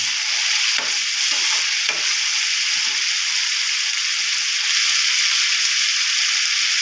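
A spiced mixture with garam masala fries in a pan, giving off a dense, even sizzle, with a few soft spoon scrapes early on as it gets stirred.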